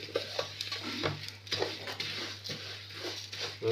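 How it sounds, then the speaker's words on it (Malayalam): Semiya stirred in ghee scrapes rhythmically around a pan, with repeated soft sweeps, light metallic taps and a quiet sizzle underneath. "അപ്പം ആ നെയ്യിലേക്ക് തന്നെ നമുക്ക് സേമിയ ഒന്ന് വറുത്തെടുക്കാം"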